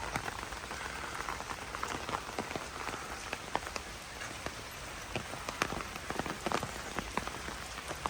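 Rain falls on the streets and roofs of Lviv in the evening, a steady soft patter with scattered sharper drips close by, quiet and even throughout with no voices.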